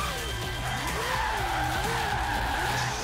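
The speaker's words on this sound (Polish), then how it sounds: "Spokojnie, podriftujemy troszeczkę" A Ford drifts in Forza Horizon 3, its tyres squealing and skidding in a long, wavering whine over a continuous engine roar.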